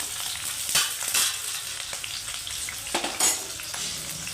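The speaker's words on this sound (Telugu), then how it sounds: "వేగితే బాగా బాగుంటుంది ఉల్లిగడ్డ వచ్చేసి మనకి ఎర్రగా కావాలి" Onions frying hard in a pan for a chicken curry, a loud continuous sizzle with several sharp crackling bursts and stirring scrapes, close up and without talk.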